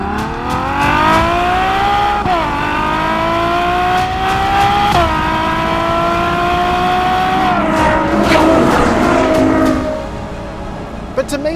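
Ferrari GTC4Lusso all-wheel-drive V12 revving hard and accelerating through several gearshifts, the rising engine wail dropping at each change, loud and close with a rougher burst near the end.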